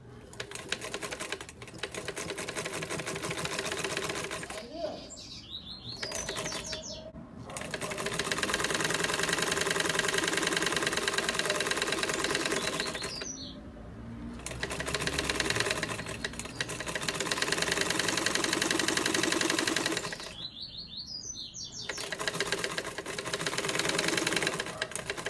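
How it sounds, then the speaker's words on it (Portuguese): A sewing machine stitches a fabric protective mask in long, rapid mechanical runs of steady clattering, stopping briefly between bursts with small handling noises, close and loud, no voice. "Nós vamos agora passar uma costura aqui, porque nós vamos fechar aquele buraquinho aqui"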